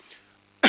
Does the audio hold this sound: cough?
yes